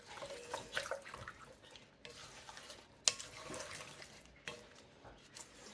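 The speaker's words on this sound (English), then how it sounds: "And then I'm just going to give it a stir." Beef stew with mushrooms, onions, carrots, flour and broth being stirred in a pot, giving soft, irregular scraping and sloshing sounds with a few sharper clinks of the spoon, fairly quiet and close.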